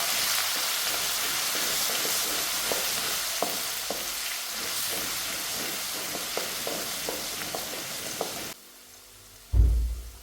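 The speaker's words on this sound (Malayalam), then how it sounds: "ഇഞ്ചി വെളുത്തുള്ളി ചതച്ചിട്ട് ഇളക്കി കൊടുക്കാം" Crushed ginger and garlic sizzle loudly in hot oil while being stirred, a dense steady crackle with soft scraping strokes, before the frying drops away and a brief clatter of the pan follows.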